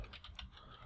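A few quick, soft keystrokes on a computer keyboard as a short statistics command is typed, faint and close, with no voices.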